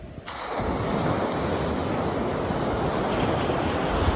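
Ocean waves break steadily on a beach, a loud continuous wash of surf with wind buffeting the microphone throughout, no voices present.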